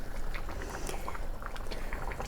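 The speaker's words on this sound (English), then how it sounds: "Now dal makhani is nicely, boiling" Pot of dal makhani at a steady boil, a dense continuous bubbling and popping heard up close, fairly even in level for the whole stretch.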